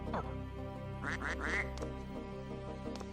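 Three quick duck quacks from Suikoden II, bright and clear over a steady game music bed, bunched close together near the middle.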